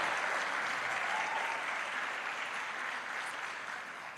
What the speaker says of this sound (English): Can we applaud her again, please?